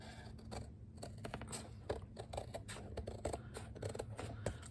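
Scissors snip through paper, trimming a page for a handmade Christmas journal, in a quick series of close, crisp cuts and rustles with no talking.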